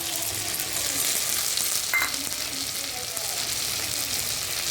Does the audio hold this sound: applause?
no